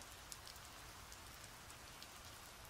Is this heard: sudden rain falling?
yes